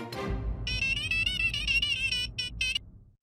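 A phone ringing on the line after speed dial in a Hindi TV comedy scene: a repeated electronic ring tone in steady bursts, close and clear, ending with a short pause before it stops.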